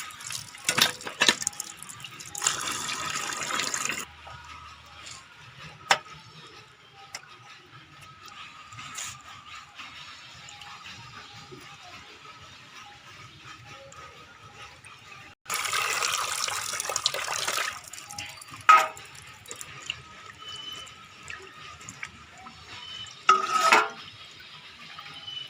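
Tap water running into a sink as wild boar meat is washed, several loud bursts of splashing flow separated by quieter stretches of dripping and handling sounds.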